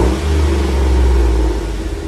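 A 2009 Chevy Suburban with the 5.3L V8 and stock exhaust revs in a steady, loud, deep rumble held for about two seconds, close by and alone.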